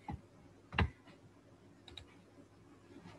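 Computer mouse clicks while working in SolidWorks software, a few sharp close clicks with one louder click near the start, in a quiet room with no talk.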